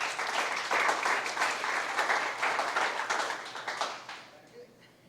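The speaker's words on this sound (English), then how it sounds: "Give her a round of applause." A room of listeners at a guest speaker's talk claps in a lively burst that holds for about four seconds, then thins out and fades into quiet.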